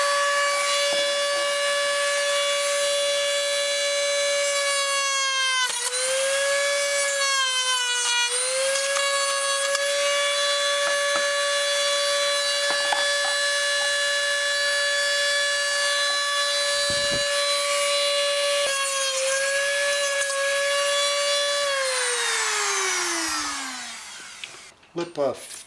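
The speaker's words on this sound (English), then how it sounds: "I think I'll have to grab my Dremel and get rid of this shoulder so I've got a nice round hole." A Dremel rotary tool grinds away the shoulder of a washer on an MTD snow blower part, a loud steady high whine that dips in pitch as the bit loads against the metal, then winds down at the end.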